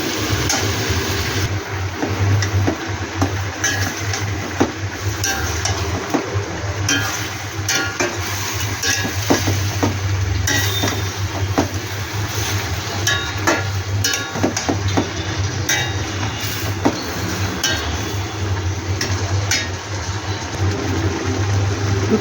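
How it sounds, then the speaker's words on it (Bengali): Chicken meat being stir-fried hard in a pan for a curry, constant dense sizzling over a low droning hum, with frequent clicks and scrapes of stirring throughout. "মাংসটা খুব ভালোভাবে কষে নিই।"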